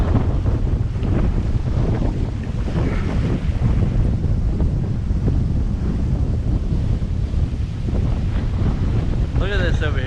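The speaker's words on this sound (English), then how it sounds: "Look at these waves, starting to get caps on them." Tropical storm wind over a bay in Cape Coral, Florida, loud constant roaring and microphone buffeting mixed with washing, choppy whitecapped waves, with a brief voice near the end.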